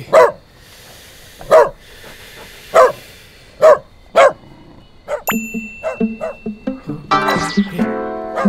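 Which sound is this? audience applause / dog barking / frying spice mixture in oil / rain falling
dog barking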